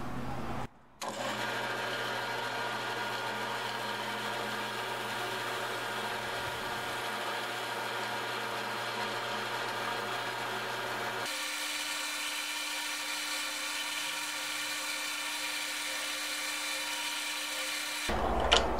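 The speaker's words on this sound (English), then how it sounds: "at this point we could turn it on and start the actual friction polishing" A wood lathe spins a turned bowl during friction polishing, giving a steady, loud motor hum and whir with no talk; the pitch drops partway through as the speed changes, then the motor spins down at the end.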